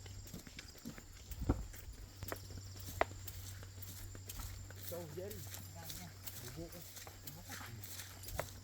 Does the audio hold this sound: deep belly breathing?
no